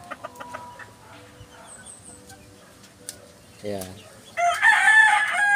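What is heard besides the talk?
young roosters (stags) clucking and crowing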